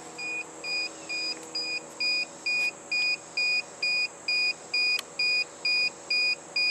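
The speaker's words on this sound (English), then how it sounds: "I'm hearing a beeping." A DigiQ II controller on a Big Green Egg grill emits a steady series of short, high electronic beeps, evenly spaced and repeating about every half second against a quiet hum.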